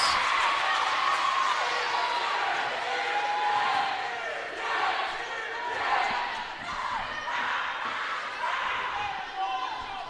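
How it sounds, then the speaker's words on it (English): Crowd noise rising and swelling at a high school volleyball match between Roseburg and North Medford, a dense roar of cheering voices filling a gym with bursts and peaks throughout, with squeaks and bounces faintly beneath. "We've got the whole crowd on their feet down here."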